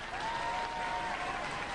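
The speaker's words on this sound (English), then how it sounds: "give them a round of applause" A studio audience at a Robot Wars semi-final claps in a quiet, even burst of applause, with a thin whistle-like tone running through the middle.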